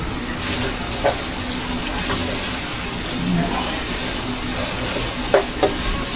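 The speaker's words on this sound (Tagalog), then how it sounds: "hintayin lang natin ma-brown na rin yung bawang tsaka sibuyas" Garlic and onion sautéing in a pan with a little bay leaf for pork adobo with string beans, a steady low sizzle with faint stirring scrapes and a couple of brief clicks.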